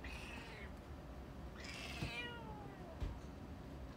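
A cat meows twice, faint and somewhat distant, each call a drawn-out wavering cry, over steady low background noise with no talking.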